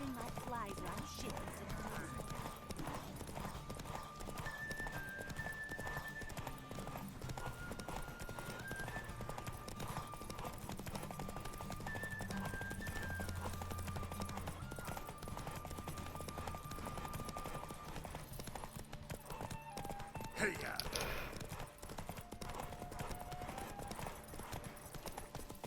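Hooves of the horse Roach clip-clop at a rapid galloping rhythm in The Witcher 3, running steadily under game music and tones, with a voice speaking over it.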